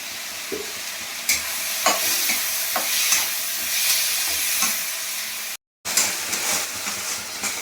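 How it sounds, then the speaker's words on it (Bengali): Spice paste with cumin frying in oil for a spicy soybean and potato curry, a continuous close sizzle broken by repeated stirring scrapes and clinks, with a brief dropout near the end. "এই মশলাটা একটু ভেজে নিই, একটু জিরে দিয়ে দেবো"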